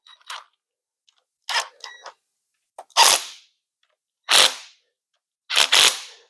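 A torque wrench clicks sharply while engine bolts are tightened to 30 foot-pounds during an LS engine rebuild with forged internals. The clicks come as a handful of distinct snaps separated by silence, loud and close.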